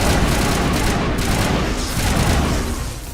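Heavy gunfire in the video game Mass Effect forms a loud, dense, continuous roar of overlapping shots and rumbling booms, with no clear gaps across the short stretch.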